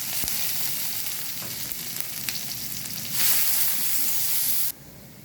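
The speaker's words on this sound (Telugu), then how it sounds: "ఆ కడాయిలోనే ఆయిల్ తీసాను, ఫ్రై చేసిన ఆయిల్ తీసి కొంచెం ఆయిల్ ఉంచుకొని దాంట్లో జీలకర్ర, వెల్లుల్లిపాయ," Cumin, garlic and ginger fry in a little oil in a kadai, giving a dense, close sizzle with a brief clink. It grows louder and brighter for about a second and a half, then drops abruptly to a quieter hiss.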